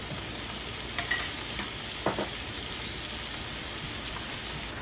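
Australian Wagyu steak searing in a pan with butter, a steady loud sizzle and crackle of hot fat with a couple of brief spatters and scrapes, no talking.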